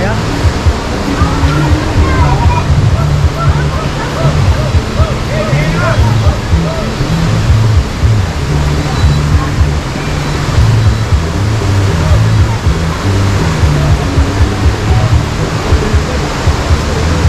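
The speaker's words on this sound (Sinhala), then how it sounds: "මෙන්න මේ ස්ථානයේ බෝපත් ඇල්ල බලා ගන්න පුළුවන්" Bopath Ella waterfall in Sri Lanka pours in a steady, dense roar of falling water, loud and unbroken throughout with no pauses.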